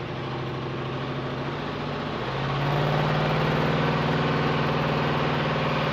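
A 1972 Ford Mustang convertible with a 351 Cobra Jet Q-code V8 idles close by with a steady, lumpy low rumble, stepping up slightly in pitch and loudness partway through, with no voices.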